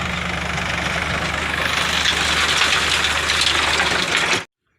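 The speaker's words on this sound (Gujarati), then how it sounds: "જો ટ્રેક્ટર હાલે" A tractor engine running on a farm, a steady close rumbling drone at constant speed that stops suddenly just before the end.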